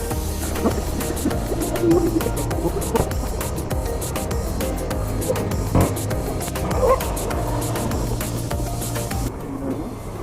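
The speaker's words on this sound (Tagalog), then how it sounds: "Yung mga aso dito guys, nangahabol" Dogs yip and bark intermittently, chasing a delivery motorcycle in strong pre-typhoon wind, amid wind noise and engine rumble, the barks fairly faint and scattered.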